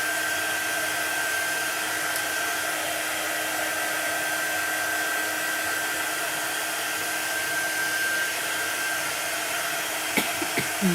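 A hair dryer runs steadily and loudly at close range throughout, drying craft paste on a Chalk Couture transfer project, with a brief clatter near the end.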